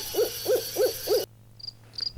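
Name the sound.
crickets and night insects with an occasional owl hoot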